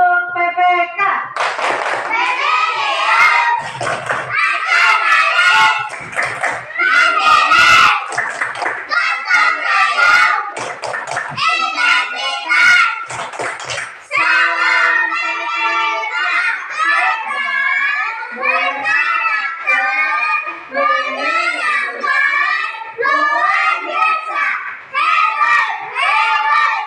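Schoolchildren perform a rhythmic class clap routine in a classroom, with patterned bursts of clapping mixed with children chanting and speaking throughout, lively and close.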